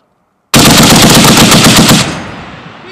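A machine gun fires one sustained loud burst of rapid automatic rounds at a military weapons training range, starting abruptly after a moment of quiet and ending with a fading echo.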